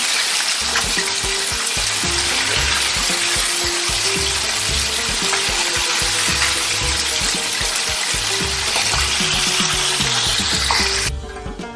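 Chicken broast deep frying in hot oil, a steady, loud, dense bubbling sizzle that carries unbroken through nearly the whole stretch before cutting off near the end.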